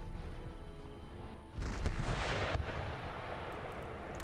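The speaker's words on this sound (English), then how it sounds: "just let my howitzers fire a round shot" Howitzers firing round shot in the video game Empire Total War: a loud booming artillery report kicks in around the midpoint, followed by a sustained rumbling roar of bombardment over a steady battlefield background.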